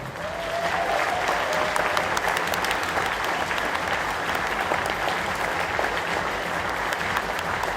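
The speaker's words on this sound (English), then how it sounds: "Round of applause for Orwolf." An audience at a Eurofurence 19 furry convention puppet show gives steady, dense applause that holds evenly throughout.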